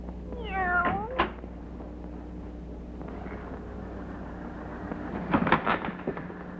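A black cat meows a few times near the start, a short rising and falling cry, followed by faint knocking and scuffling, with a quiet low hum underneath throughout.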